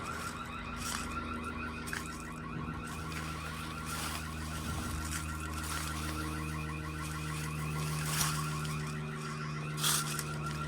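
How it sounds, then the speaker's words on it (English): An intrusion sensor alarm blares at abandoned 1800s stone castle powerhouse ruins, a steady electronic warble with pulsing tones repeating throughout, loud and continuous with no talking. "that sensor alarm went off"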